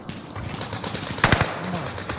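Gunfire in Call of Duty with a KG M40 rifle: a steady rattle of game ambience and shots, topped by a loud close burst around the middle, with a shooter unseen nearby.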